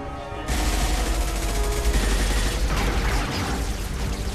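Sustained gunfire rattles in the video game Mass Effect 2, a dense, loud burst of shots that begins abruptly after a brief moment and continues without pause to the end.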